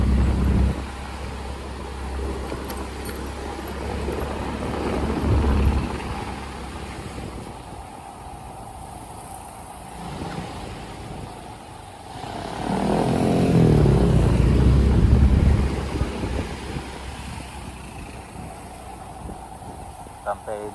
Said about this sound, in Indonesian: mulai mobil udah banyak juga. Walaupun jalan tapi jalannya pelan-pelan ya